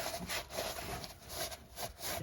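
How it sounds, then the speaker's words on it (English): Rag soaked in brake cleaner rubbing over a Honda Civic part during reassembly after a clutch install, a quiet rhythmic scrubbing with four or five back-and-forth strokes, close and alone. "Got some brake cleaner on a rag. I'm going to clean this up."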